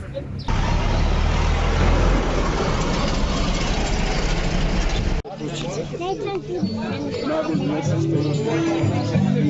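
A motorcycle engine idles loudly and steadily at a motorcycle gathering and blessing in Tomišelj, then cuts off abruptly midway, leaving background chatter and people talking nearby.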